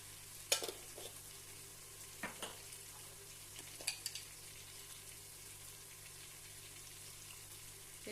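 Chicken biryani masala stirred in a pan after chili powder goes in, with a steady low sizzle and a few sharp spoon scrapes and clinks against the metal scattered through, no talking.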